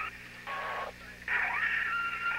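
Telephone tones during a 911 emergency call: two short bursts of dialing-like tones, the second longer with a gliding pitch, over a faint steady hum.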